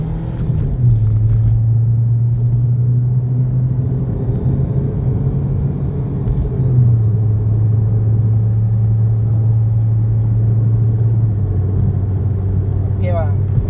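A Chevrolet Optra engine drones steadily as the car pulls up a hill, a low continuous rumble whose pitch holds and then shifts slightly, heard from inside the car at constant loudness with no talk.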